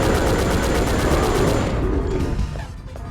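Rapid, loud bursts of gunfire from an anti-tank rifle in a video game, a dense rattling fusillade that tapers off after about two seconds.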